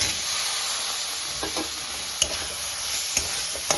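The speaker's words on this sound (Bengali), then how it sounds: "এবার আমি দিয়ে দেবো এর মধ্যে ভেজে রাখা আলুগুলো" Fried potatoes dropped into cooked masala in a pan and stirred, a loud continuous sizzle with sharp spatula clinks and scrapes punctuating it, no voices.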